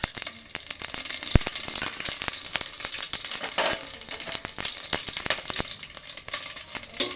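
Panch phoron spices sizzling and popping in hot oil in a pan while making shukno khichuri, a fairly soft, steady hiss broken by many quick crackles and small pops throughout.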